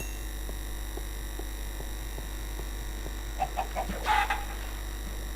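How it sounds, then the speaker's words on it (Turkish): A chicken in the video game Minecraft, a few short clucks near the middle over a steady electronic hum and faint ticking. "Tavuk"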